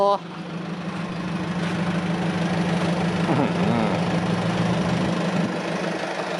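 A four-cylinder turbo engine fitted in a six-wheel Etan dump truck runs steadily at a low, droning idle, a continuous rumbling hum that stays even and fairly close, with faint background noise around it.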